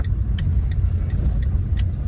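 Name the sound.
old car driving and turning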